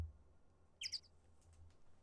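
A short bird chirp, a quick double call, from the Phoenix Wright: Ace Attorney Trilogy video game, heard once, briefly and faintly, against a quiet low background hum.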